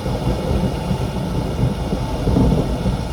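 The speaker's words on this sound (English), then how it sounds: "Speaking of the thunder" Thunder from a storm rumbles steadily and fairly loud, a dense low roar that fills the whole stretch with no break, heard outdoors while work is done on an engine ignition.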